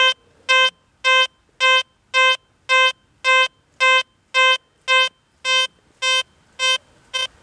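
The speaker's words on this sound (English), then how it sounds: "Now listen to this detector as I bob this coil." Steady repeating tone from an XP Deus 2 metal detector as its coil is bobbed over the ground, about fourteen evenly spaced harmonic beeps, loud and clear with no voices.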